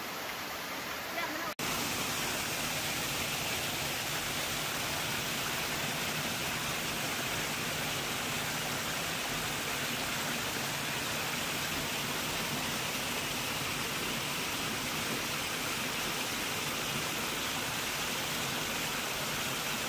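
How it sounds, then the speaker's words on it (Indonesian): A waterfall at Batee Meucanang in Labuhanhaji, Aceh Selatan gives a steady, loud, broadband roar of falling water that fills the scene and holds unbroken for nearly the whole stretch after a brief cut near the start. "Dengar ini suara dari air terjun yang sangat indah."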